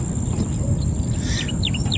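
Faint bird chirps and short tweets over a steady high insect-like hum and low rumbling background.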